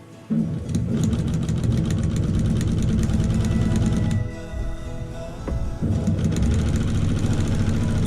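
A sewing machine stitches the final border onto a baby quilt in fast, steady whirring bursts, pausing briefly midway before resuming, close and loud with no talk.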